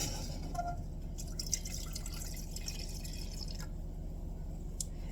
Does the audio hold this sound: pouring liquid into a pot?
yes